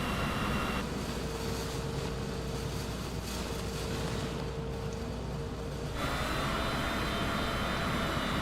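An airliner taxiing along a massive runway on a busy night in Flight Simulator 2024, a loud, constant broadband jet engine roar that thins briefly in the middle and then swells again, steady with no talking.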